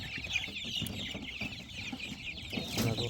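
Thirty-five-day-old Andijan black chicken chicks for sale at a market, clucking and cheeping near and far in an overlapping steady chorus, with a louder cluck near the end.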